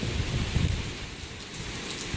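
Steady rain pours outside a house in Florida, a dense, even hiss of drops hitting surfaces that fills the whole clip without a break, fairly loud and close.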